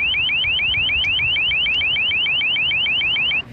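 An LRAD long range acoustic device, heard from about 100 yards away, blares a loud warbling tone. The rapid rising chirps repeat evenly for several seconds, alone with no voices, then cut off abruptly.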